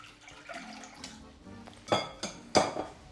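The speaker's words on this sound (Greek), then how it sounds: "Γεμίζω το μπολ με νερό." Tap water fills a large bowl for rinsing basmati rice, with soft running water broken by several sharp clinks and knocks of dishware against the sink.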